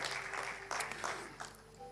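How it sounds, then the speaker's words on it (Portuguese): Applause from a church congregation during a worship service, a soft, fairly distant wash of clapping with a few louder bursts, faint throughout. "Dê um aplauso bem forte ao Senhor."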